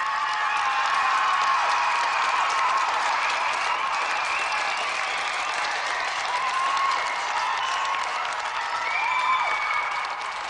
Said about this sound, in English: let's have a round of applause for both our semi-finalists, Greg Watson and Gary Harrod.